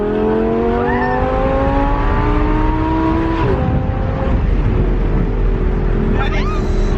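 An Audi R8 V10 fitted with an ARMYTRIX titanium exhaust roars loud and close, its engine tone sweeping through a revving pull, then dropping with a burbling downshift and crackles, continuous throughout.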